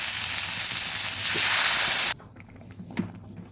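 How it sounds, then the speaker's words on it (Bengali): Water poured into a hot pan of frying winter vegetables for a fish curry: a loud, steady sizzle swells, then cuts off abruptly, leaving a quieter bubbling with a few soft clinks. "আমার সবজিটা ভাজা ভাজা হয়ে গেছে এবার দিয়ে দেবো জল"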